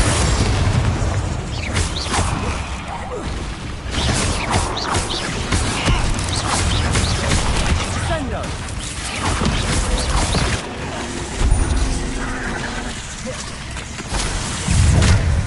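Confringo explosive spell blasts in Hogwarts Legacy, repeated booming impacts and crashes over a busy combat din, loud and continuous with a few sharper bursts standing out.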